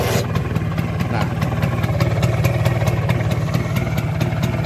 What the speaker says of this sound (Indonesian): kalau kalian dengar ya seperti ini bunyi mesin yang normal